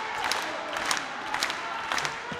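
Wrestling arena crowd at a GHC National Championship title match cheering and roaring in rising waves, a dense continuous wall of voices with periodic swells, moderately distant.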